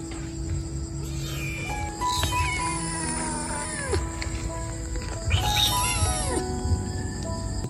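A small homeless baby kitten crying outdoors on a street, with thin rising and falling mews repeating over steady insect chirping and low traffic-like rumble.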